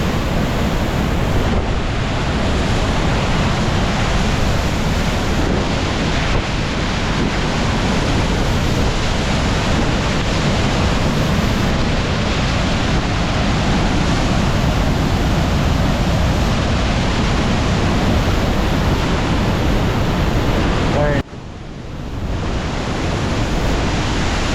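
Wapama Falls in Hetch Hetchy, Yosemite, roars as powerful rushing water pounds near a footbridge, a loud unbroken wash of white noise with wind buffeting the microphone and one brief dropout near the end.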